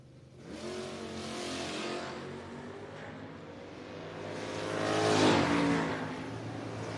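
A 1978 Dodge Aspen and a Camaro at a no-box drag race roar with engines revving, the loud rising whine swelling as the cars pass, with no voices over it.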